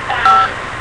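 A Samsung J600 phone keypad gives a brief electronic tone when a key is pressed, one short beep close and clear.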